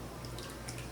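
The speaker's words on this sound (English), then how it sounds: "I'm going to put in my lye solution and almost fill the bowl" Lye solution is poured into a bowl for a large batch of cherry blossom soap, a faint, brief liquid trickle with small splashy drips.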